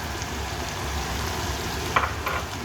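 Chopped green capsicum sizzling steadily in a hot pan for Sri Lankan deviled chicken, with a constant crackling fry and a couple of sharp scrapes and clinks as a spoon stirs it through.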